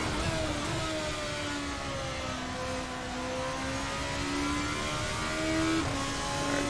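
A GP2 race car in Assetto Corsa accelerates out of Parabolica, its engine a steady, rising high-pitched whine that climbs through the gears with a brief shift blip near the end, heard alone.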